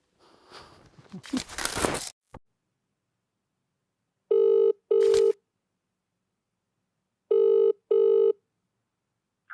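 A telephone rings twice with a double-pulse ring pattern, each pair clear and close against silence. Some brief rustling and handling noise comes just before.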